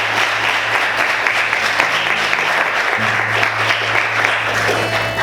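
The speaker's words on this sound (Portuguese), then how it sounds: "Vamos aplaudir o Senhor," A church congregation applauds steadily for the full stretch, a dense wash of many hands filling the sanctuary, with a low sustained hum beneath.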